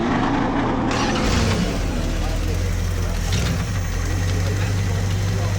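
Classic GMC 100 pickup engine fires up and settles into a steady, loud, close-up idle with a deep rumble, while people talk over it.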